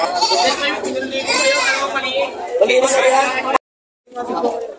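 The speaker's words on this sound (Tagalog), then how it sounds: "Ayan, ang lalaking kambing." A male goat bleats repeatedly, loud and close, in wavering cries at the Padre Garcia livestock auction market; after a brief silence another bleat follows.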